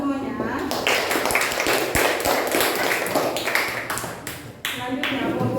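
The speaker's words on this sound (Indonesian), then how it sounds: "Tepuk tangan semuanya." A classroom of students claps for a group that has just finished presenting. The clapping is steady, dense and close, with a voice speaking over it.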